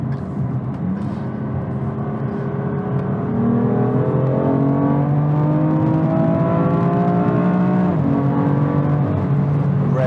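A BMW M140i engine revs hard while driving, its pitch climbing steadily through the gears toward about 7,500 rpm, loud and close from inside the cabin with a brief shift dip before rising again.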